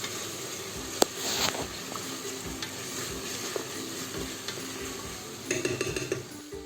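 Ginger garlic paste fries in a pan over a medium flame with a quiet, steady sizzle, a sharp utensil clink near the start and a few light stirring scrapes later on; no voices.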